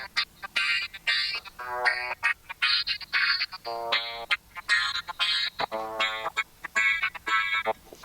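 A mellow electronic track is played through a MIDI-driven plugin effect in Ableton Live, giving bright, chopped, pitched stabs in an uneven rhythm, clear and alone without talking.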